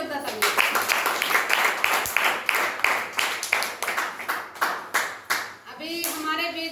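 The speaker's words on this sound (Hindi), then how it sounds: "एक बार अपनी जिंदगी बदलने के लिए जोरदार ताली" A seated audience at a motivational gathering in Jharkhand breaks into loud, steady clapping, a dense run of claps lasting several seconds before a voice resumes at the end.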